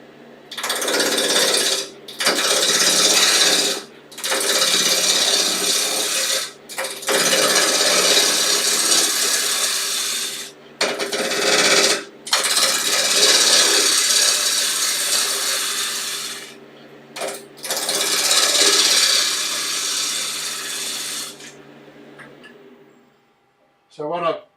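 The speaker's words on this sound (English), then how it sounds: "I'm just using the bottom edge of the roughing gouge, and it's giving a nice little shearing cut" A roughing gouge takes shearing cuts on wood spinning on a lathe, loud close rasping bursts of several seconds each separated by short pauses, with a motor hum beneath and no talking.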